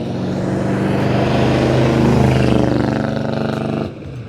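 A 1970 Buick Riviera's big block engine roars loud and close, a deep throaty rumble swelling steadily before dropping off sharply to a lower idle.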